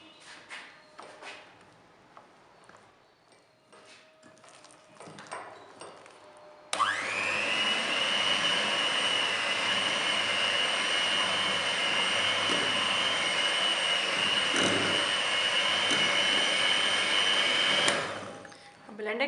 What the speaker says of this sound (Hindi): ब्लेंडर की मदद से अच्छी तरह मिक्स कर लेंगे।